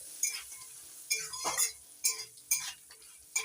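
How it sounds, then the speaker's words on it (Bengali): Dry fruits stir-fried with salt in a pan, a series of sharp scraping, rattling stirs about every half second over a faint sizzle, close and distinct. "নাড়াচাড়া করে ভেজে নিচ্ছি ড্রাই ফ্রুটগুলো।"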